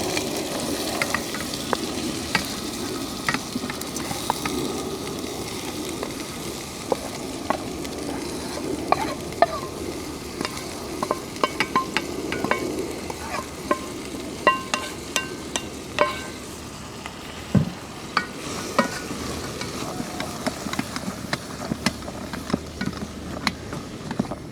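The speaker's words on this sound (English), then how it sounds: "Right, we're getting some sizzle on" Lamb curry with cardamom fries in ghee on a Trangia 27 camping stove outdoors, giving a steady close sizzle with scattered clinks and scrapes of stirring and no talk.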